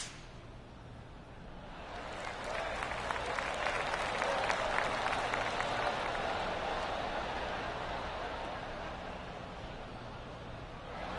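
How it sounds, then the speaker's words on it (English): Golf spectators applaud in the PGA 2K25 video game, a broad wash of clapping that swells after a couple of seconds and stays steady, moderately distant and without talk. "Oh, golf clap."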